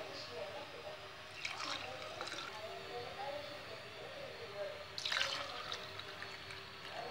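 A yogurt mixture made from powdered milk is poured into cups, giving soft liquid splashes in two short bursts against a quiet room background.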